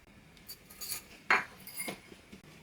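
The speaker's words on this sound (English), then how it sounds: "We're going to mix the crackers with the butter." Crushed crackers being mixed with melted butter in a bowl for a no-bake Easter egg cheesecake, giving soft scraping and a few light clinks of a utensil on the bowl, with no talking.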